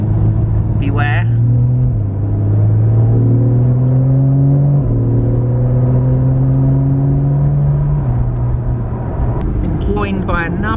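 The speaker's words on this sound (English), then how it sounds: "Joined by another Porsche, a 996 behind as well. Convoy! Porsche convoy!" Porsche 996 cars driving together in a convoy, a loud steady engine drone from inside the car with gear shifts stepping the pitch, as a voice talks over it.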